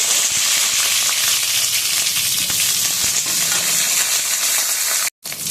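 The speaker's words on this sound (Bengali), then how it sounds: "তেলের মধ্যে কালো জিরা দিয়ে দেবো এবার পটলটা দিয়ে" Pointed gourd frying in hot oil with nigella seeds, a loud steady sizzle and crackle filling the whole stretch, with a brief cut near the end and no talk.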